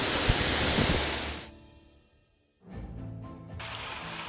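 A three-tiered waterfall on Wawonii Island, Southeast Sulawesi, gives a dense, steady roar that cuts away, goes quiet for a moment, and then returns at full strength.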